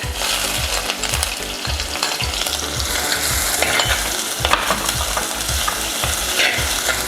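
Finely chopped onion sautéing in hot oil with popped mustard seeds, a loud close sizzle with regular spatula strokes against the pan, no one speaking.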